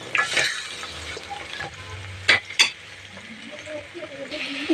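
Ivy gourds stirred and scraped around a hot frying pan, sizzling steadily with a few sharper metallic clinks of the spoon against the pan, close and fairly loud.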